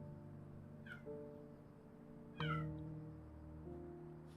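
A pet cat meows twice, clear and fairly close, over a steady backdrop of soft sustained music tones.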